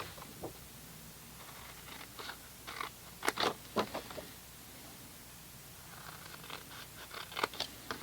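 Scissors cut cardstock for a large fold-flat Christmas gift box, sounding as scattered crisp snips and crunchy slices, close but quiet, with pauses between the cuts.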